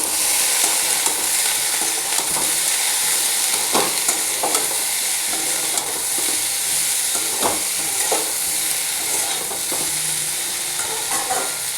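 Vegetable curry stirred in a hot pan after salt, turmeric and Kashmiri chili go in, a steady sizzle with scraping spoon strokes at irregular intervals, close and continuous throughout.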